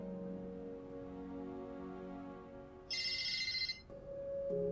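A phone rings in a TV drama scene: a bright electronic ringtone trills for about a second against a sustained musical score, which carries on after the ring stops.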